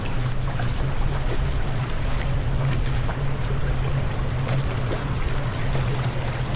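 Boats move on the water beside the outdoor Villagio mall in Qatar, giving a steady low rumbling churn and wash that continues evenly throughout, with no talking.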